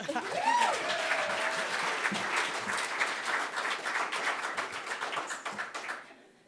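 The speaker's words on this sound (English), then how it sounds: "All right, another round of applause for Laura." An audience at a storytelling event applauds in a steady, full burst of many hands that fades out at the end, with a few voices and a brief whoop heard over the clapping.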